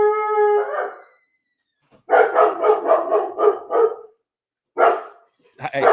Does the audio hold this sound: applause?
no